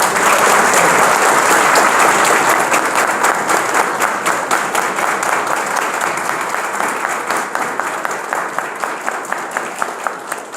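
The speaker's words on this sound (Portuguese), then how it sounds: "Eu queria pedir a vocês que dessem uma salva de palmas, porque eles merecem" Audience applause for a team that completed a leadership course at a civic-week event: dense, steady clapping from a crowd, strong at first and thinning slightly toward the end into more distinct individual claps.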